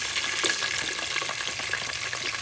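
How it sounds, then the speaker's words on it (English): Onions sizzling in the pot over a fire for a fresh fish stew with salted fish, a dense, continuous close crackle and hiss with no talking. "So that's the onion simmering in there for you."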